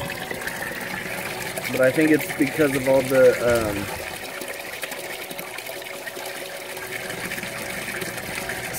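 Water drains out of a nutrient tub, a steady low trickle and gush running throughout, briefly covered by someone talking.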